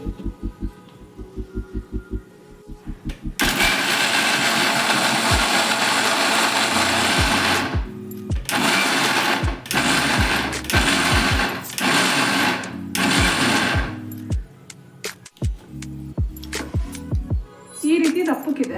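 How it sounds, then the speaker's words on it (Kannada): A kitchen mixer grinder jar powders roasted peanuts in loud, steady bursts, starting after a few seconds of quiet clicks and running in several pulses with short pauses between them. "ಇವಾಗ ಇದೇ ಜಾರಿಗೆ ಹಾಕ್ಕೊಂಡು ಪೌಡ್ರ್ ಮಾಡ್ಕೋಬೇಕು."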